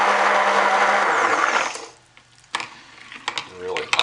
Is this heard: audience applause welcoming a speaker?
no